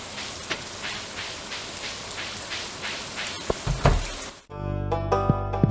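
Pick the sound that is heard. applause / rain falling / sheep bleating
rain falling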